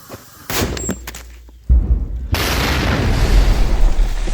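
A mortar round fired: a sharp, heavy blast booms out, followed by a loud, sustained roar and rumble that keeps going for several seconds.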